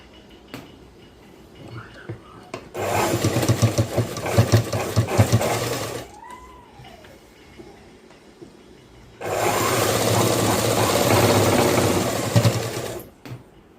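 A sewing machine stitches the folded hem of a boy's school uniform shirt in two loud, steady bursts of whirring, separated by a quieter pause.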